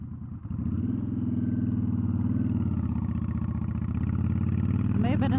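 A motorcycle engine riding in second gear gives a steady, loud, close drone that holds its pitch throughout, with a brief dip at the start.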